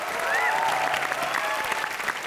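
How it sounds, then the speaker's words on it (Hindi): Studio audience on a Colors TV entertainment show claps for Bandgi, a short burst of lively, close applause with a few whoops and cheering voices rising over the clapping. "एक बार जोरदार तालियां बजा दो इसके लिए"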